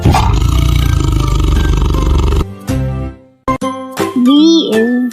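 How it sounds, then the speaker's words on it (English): Tiger roar, a loud sustained rumbling growl that cuts off abruptly, followed by brief jingling and chiming tones. "T is for tiger."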